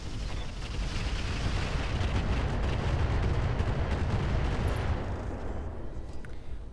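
Heavy mech weapons fire in the Roguetech battle game, a dense rolling barrage of booming, crackling shots that stays loud and continuous throughout with no talk over it.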